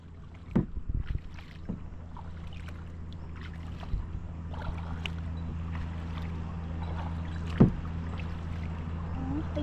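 Water laps and splashes around a boat on the Kud Daeng reservoir at Ban Koeng, Maha Sarakham, over a steady low drone with a few scattered knocks and light wind.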